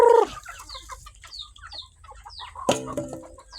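Pet chickens cluck and chatter close by, with a loud squawk at the start and another burst near the end, scattered soft clucks in between.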